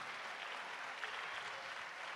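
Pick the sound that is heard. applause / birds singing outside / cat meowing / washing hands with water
applause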